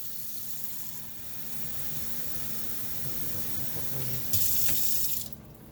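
Tap water pours steadily into a cooking pan for boiling rice, a continuous close splashing rush that builds slightly in loudness before cutting off near the end.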